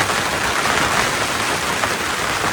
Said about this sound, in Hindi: ये ओले पड़ रहे हैं भाईजान